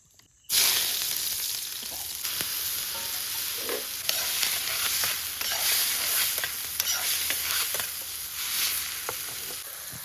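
Oil goes into a pan to start a crab dish and breaks into a loud, steady sizzle that holds from the first half-second to the end, with light stirring clicks.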